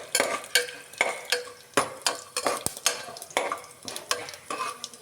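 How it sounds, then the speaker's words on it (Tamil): Dried red chillies and cumin fry in a pan while a spoon stirs them, with a rhythmic run of close scraping strokes over a light sizzle and no talk. "வரமிளகாய், போட்டு லைட்டாக கிளறணும்."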